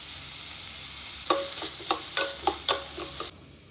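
Onions frying in oil in a pan, browning for paper avalakki, with a soft steady sizzle under a run of sharp spatula scrapes and clinks, about six strokes in quick uneven rhythm before it stops.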